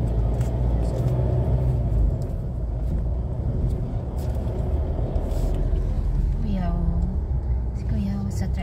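Tricycle engine rumbling on a road in North Cotabato, Mindanao, a steady low drone with passing traffic noise and a couple of short horn-like tones near the end, while people talk over it.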